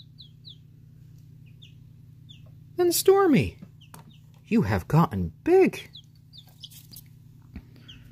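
A 16-day-old chick, a young cockerel, clucks and chirps in a few short bursts close by, while a person talks softly over a constant low hum.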